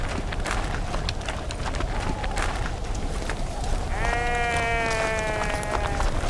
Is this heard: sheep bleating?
yes